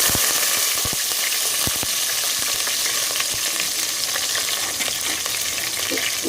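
Green chilies, onions, curry leaves and whole spices for chicken biryani frying loudly in hot oil, a dense close sizzle with sharp clicks of a spoon stirring against the pan.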